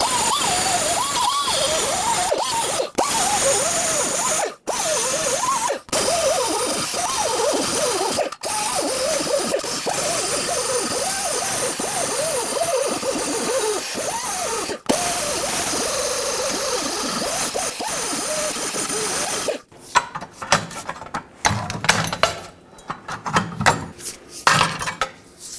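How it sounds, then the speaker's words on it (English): A tool cuts through the spare tire carrier cable under a 2007-2014 Chevrolet Silverado 2500 HD, a loud, continuous grinding whine with wavering pitch, then a stretch of irregular metallic clatter and knocks as it ends. "all I'm going to do is cut the end off of this cable"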